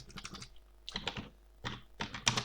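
Bursts of computer keyboard typing while editing a mind map, clustered in three quick runs of clicking keystrokes separated by short pauses, close and fairly quiet, with no voice.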